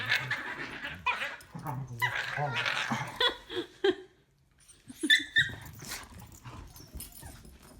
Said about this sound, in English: I don't know if you can hear me at all over these dogs